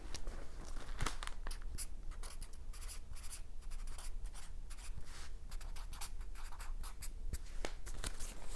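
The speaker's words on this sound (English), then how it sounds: "you're going to write triggering event." A pen scratches across paper in short bursts of strokes, close and quiet, with small pauses and light rustling between words.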